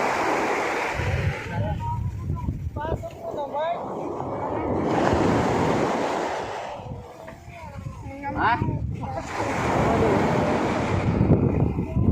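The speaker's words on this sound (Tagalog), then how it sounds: "malakas yung alon" Heavy surf rolls and crashes in repeated surges at sea during net fishing, with wind buffeting the microphone and occasional voices talking underneath the roar of the water.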